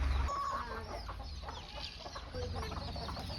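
A rooster clucks softly in short, repeated calls, faint and fairly distant over quiet background noise, with no talking.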